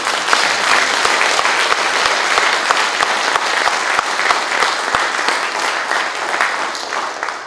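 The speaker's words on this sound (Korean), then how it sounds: "우리 감사의 박수 한번 드립니다" An audience at the inaugural meeting of the Peaceful Unification Advisory Council's Eastern Canada chapter gives sustained, dense applause of thanks, loud and steady for several seconds with no voices over it.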